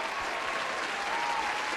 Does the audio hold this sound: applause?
yes